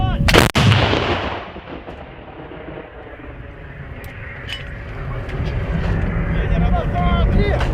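A single loud artillery blast cracks out at the start, followed by a long rumbling echo and outdoor noise with distant voices.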